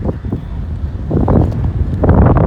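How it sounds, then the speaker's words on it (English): Strong wind buffets the microphone atop an antenna tower in loud, uneven gusts, a constant low rumble swelling and easing throughout. "It's windy. Got windy when I was up here."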